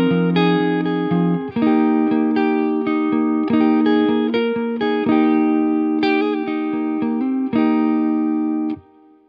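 Electric guitar playing a clean bridge passage with the MXR Dynacomp compressor switched off, in a rock song. Sustained strummed chords change in a steady rhythm, loud and close, with no talking.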